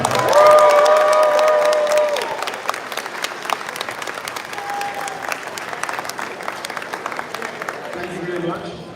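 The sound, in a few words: audience applause welcoming Shelton Drum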